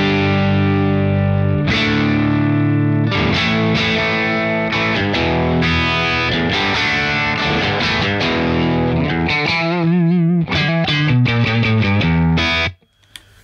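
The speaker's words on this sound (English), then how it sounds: "this is the sound of the guitar. It's going into the Soldano straight in" Heavily distorted electric guitar played straight into a Soldano tube amp with no reverb or delay, loud sustained chords and quick riffs with a thick, saturated amp tone, ending in an abrupt cutoff.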